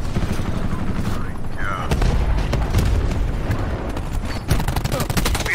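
Rapid gunfire in a multiplayer shooter aimed at an incoming enemy gunship, loud repeated shots and booms in dense bursts with voices talking over the fighting.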